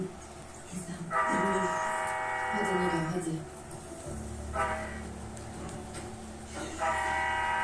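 A GO Transit MP40 toy model locomotive pulling six cars runs on a home layout with a steady motor whir and rail rumble, sounding several harmonic horn blasts, while a person talks over it.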